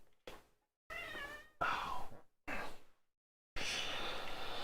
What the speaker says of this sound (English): I have a kitty cat that is now playing around underneath my desk and is tickling my feet.